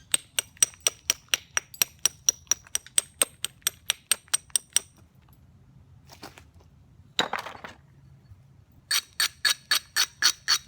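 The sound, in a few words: stone flake knapped by direct percussion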